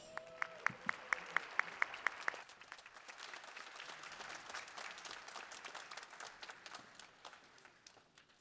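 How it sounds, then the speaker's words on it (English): An audience applauds a high school show band at a holiday concert. A few sharp, evenly spaced claps ring out first, then a broad wash of clapping builds and continues, fairly distant and soft. "Please give them a warm round of applause."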